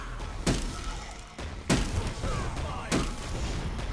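A turret firing in the video game Smite, three heavy booming impacts spaced about a second apart over a busy, rumbling game background.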